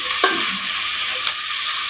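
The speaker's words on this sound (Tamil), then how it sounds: "வெங்காயம் வதக்கட்டும்" Sliced onions sauté in a pan with a pinch of salt, giving off a loud, steady, hissing sizzle, with a couple of faint scrapes from stirring.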